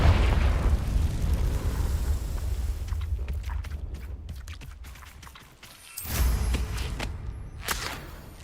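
A fiery Confringo spell blast in the Hogwarts Legacy game, a deep rumbling boom that decays over several seconds, followed by crackling mechanical clatter and a second burst of impact near the end.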